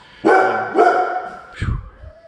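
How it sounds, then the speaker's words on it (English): A dog barks twice in quick succession, loud and close, followed by a short lower yip or whimper, with no talking over it. "It's just my day for doggy interruptions."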